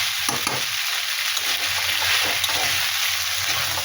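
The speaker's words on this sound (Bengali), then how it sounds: "আর এই পাস্তাটাও দিয়ে ভালো করে একটু কষিয়ে নিচ্ছি" Pasta being stir-fried in a pan makes a constant, close sizzle, with faint stirring scrapes and taps mixed in, and no one speaking.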